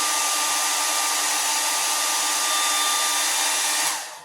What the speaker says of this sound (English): An easier method would be to use a blow dryer.